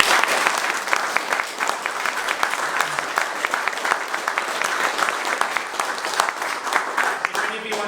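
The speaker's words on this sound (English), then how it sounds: "another round of applause" Sustained, loud applause from an audience after a talk on battlefield archaeology, a dense wash of clapping that carries steadily throughout with scattered voices mixed in.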